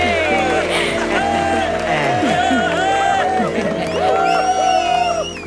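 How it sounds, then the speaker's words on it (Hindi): A crowd claps and cheers at a lively Indian event hosted for army officers, with whoops and shouting voices rising over steady applause, close and loud throughout. "जोरदार तालियां हो जाए।"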